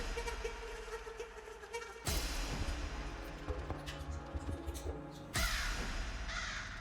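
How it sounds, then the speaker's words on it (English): Crows caw repeatedly inside the video game The Stanley Parable: Ultra Deluxe, loud, harsh calls in bursts over a dense, busy background, with a sharp surge near the start and another toward the end. "Crows."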